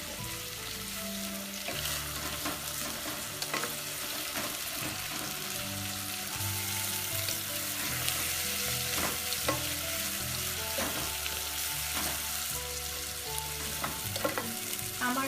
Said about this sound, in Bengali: আমার পেঁয়াজটা মোটামুটি ভাজা হয়ে গিয়েছে।